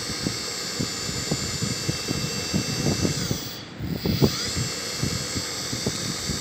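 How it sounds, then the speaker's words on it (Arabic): A modern car's electric power steering motor with a strong gearbox, run directly without the car's computer, gives a steady high-pitched whine over a busy rattling, clicking texture. It dips briefly partway through, then picks up again. "هذا محرك قوي بجير بوكس قوي جدا"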